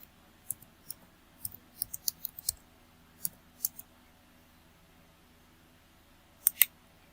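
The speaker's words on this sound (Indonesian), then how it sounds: "Setelah klik tombol cari" Quiet, sharp mouse clicks while working in accounting software, scattered singly and in quick pairs, then a short double click after a pause, against a faint background hum.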